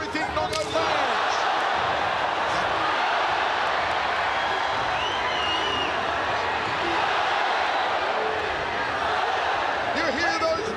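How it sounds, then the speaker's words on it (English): Crowd at a ONE Championship fight event roaring and cheering as a fighter lands knees and elbows, a dense continuous arena roar with swelling shouts throughout, heard under a commentator's talk. "You hear those roars for the knees, for the elbows."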